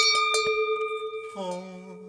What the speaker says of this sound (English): How are you gonna utilize a bell? Ring it in the microphone.